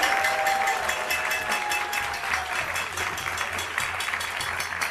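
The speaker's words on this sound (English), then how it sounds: "Just one more round of applause for them." A studio audience at the finals of a televised high school quiz competition gives a round of applause, moderately loud and even, continuing without pause for the full stretch.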